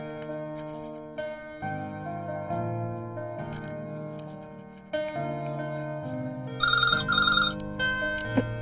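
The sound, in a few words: telephone ringing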